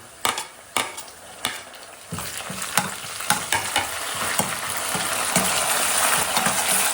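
Curry leaves, onions and fenugreek seeds sizzle loudly in hot oil in a pan for bitter gourd curry, with a spoon scraping and stirring in repeated strokes over a steady crackling hiss that grows denser toward the end.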